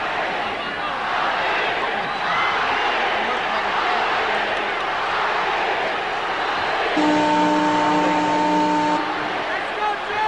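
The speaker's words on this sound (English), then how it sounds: "The crowd is chanting Ali" A large arena crowd at the Muhammad Ali vs Joe Frazier heavyweight boxing match chants Ali, a loud continuous roar of massed voices, joined by a brief steady tone near the end.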